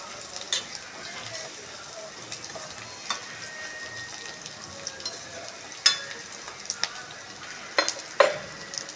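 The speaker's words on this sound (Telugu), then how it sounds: "సో ఇలా కొంచెం లైట్గా ఫ్రై అయితే బాగుంటుంది." Soya chunks (meal maker) lightly frying and being stirred in a pan, a steady soft sizzle with scattered clinks and scraping sounds of a utensil against the pan.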